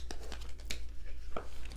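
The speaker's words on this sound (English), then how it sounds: "I'm gonna keep shuffling." Tarot cards are shuffled by hand, giving irregular papery riffles and flicks close by over a low hum, with no talking.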